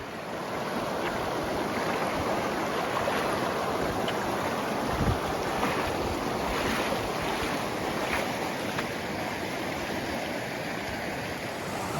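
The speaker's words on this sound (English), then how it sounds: "This is a junction and there are two streams, this one and this one" Steady, broadband rush of a mountain stream near a trail junction in the New Zealand backcountry, continuous and loud throughout with wind-like noise and no voices.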